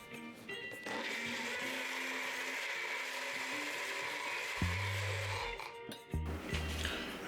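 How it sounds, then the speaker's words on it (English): Electric blender running continuously while blending a honey garlic pork rib marinade, a loud steady motor whir with a few clunks and shifts in pitch near the end, no talking. "I'm gonna start blend."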